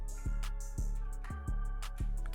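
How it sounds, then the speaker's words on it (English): Omnisphere synth preset called US cheese plays a short repeating pattern over punchy low kick hits and crisp clicks, fairly quiet, with no voices. "For that I went into Omnisphere and chose a new US cheese preset which sounds like"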